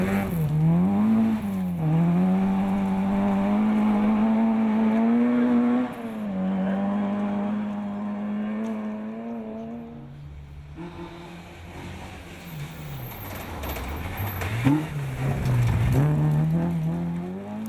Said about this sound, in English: Jack Shields and Ashley Bolton in car 56 are enjoying their drive.